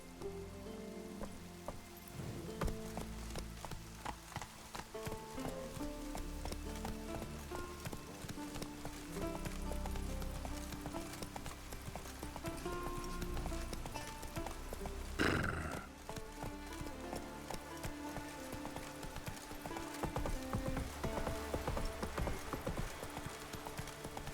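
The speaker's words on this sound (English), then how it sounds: "Looks like rain." Rain falls steadily in The Witcher 3 while a horse's hooves clip-clop along beneath it, with a brief louder burst partway through and no talking.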